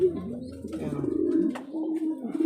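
A racing pigeon coos close by in low, rolling, throaty phrases that swell and fall across the moment, clear and unaccompanied.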